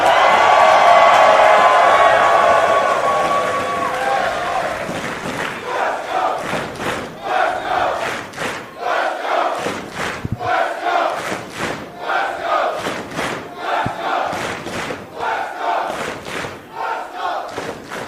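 Wrestling event crowd roaring and cheering loudly at first, then settling into a steady rumble of shouts and whoops with rhythmic bursts, heard with no talk.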